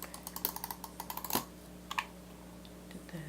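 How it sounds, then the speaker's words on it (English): Adhesive tape being pulled off and pressed onto a handmade hexagon box card, heard as a string of quick close crackles and taps with one sharp louder rip, then a few scattered softer touches. "I'm just going to run"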